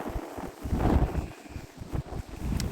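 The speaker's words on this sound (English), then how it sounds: "Ooh, that wind." Steady wind gusting across an outdoor RC model airplane airfield, rumbling and buffeting the microphone in uneven surges throughout.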